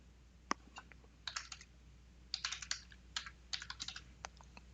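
Fingers type on a computer keyboard in short, uneven bursts of close, crisp key clicks separated by brief pauses.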